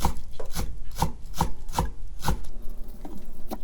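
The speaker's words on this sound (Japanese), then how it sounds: "ネギはバラバラにならないようにキッチンペーパーとかさらしで巻いて切ると切りやすいと思います" Green onions (negi), wrapped in kitchen paper or cloth, chopped into thin rounds with a knife on a wooden board, a close, steady run of crisp regular chops with no talking.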